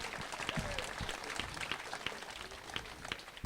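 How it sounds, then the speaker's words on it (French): Light applause from a modest audience, a patter of scattered claps continuing steadily at moderate distance. "on peut l'applaudir"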